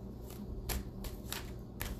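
Tarot cards shuffled by hand, a run of soft riffling bursts at irregular intervals over a steady low room hum, close and fairly quiet.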